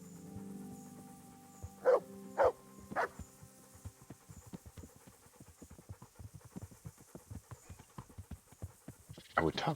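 Horse hooves clip-clop in a steady rhythm while riding in the medieval game Kingdom Come: Deliverance, mid-level and continuous under game ambience, with a few louder bursts and a dog barking nearby.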